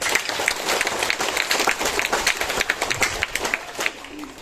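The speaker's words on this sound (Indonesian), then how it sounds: "Tepuk tangan dulu yang untuk ini" A church congregation claps in applause at a homily, a steady dense patter of many hands sustained throughout with no voices standing out.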